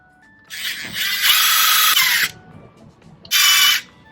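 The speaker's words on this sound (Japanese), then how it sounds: "このバッフルの穴がここの部分は開いてないので穴開けます。" A power drill bores a hole in a speaker baffle for a carrozzeria TS-F1740 car speaker, with a close, high whirring run of about a second and a half followed by a shorter second burst.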